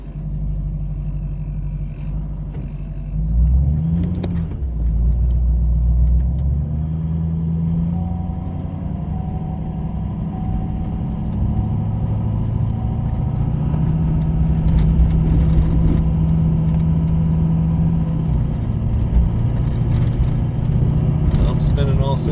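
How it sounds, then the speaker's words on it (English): A truck with six tires spins its wheels while climbing a snowy driveway, a steady loud engine rumble throughout with pitch rising and falling as the revs change, and people speaking over it. "Spinning all 6 tires."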